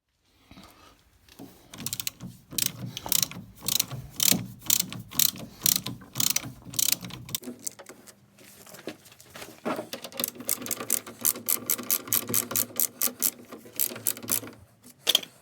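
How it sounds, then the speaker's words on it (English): A hand ratchet removes the bolts holding an old brake caliper: quick bursts of sharp metallic clicking repeat through the clip, close and loud, with brief pauses between strokes. "I've removed the two bolts holding the old caliper on"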